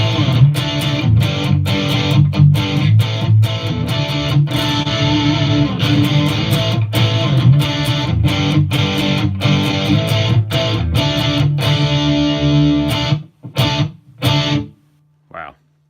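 Heavily distorted electric guitar riffs through a Headrush amp modeler set to a 100-watt lead 800 with preamp maxed and a little tube screamer, loud and dense with rhythmic chugging, ending in a few abrupt stabs and a sustained note.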